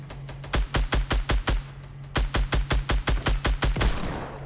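Rapid gunfire from a Fortnite battle royale match, two bursts of about six sharp, evenly spaced shots each, loud and close, separated by a short pause over a steady low hum.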